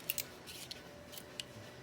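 Cutting the end of an ATV winch cable on a Can-Am Outlander 850 MAX XT, a few quiet snipping clicks spaced over a couple of seconds against a faint background hum.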